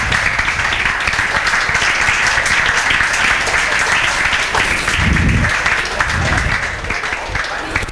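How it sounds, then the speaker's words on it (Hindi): Sustained applause from a room full of students, dense and continuous clapping at close range, with brief murmurs of voices rising beneath it near the end. "नैनन दुबे के लिए जोरदार तालियां।"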